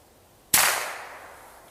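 A single sharp gunshot from a Cricket .22 rifle, close and loud, with a short decaying tail trailing into quiet; no talking.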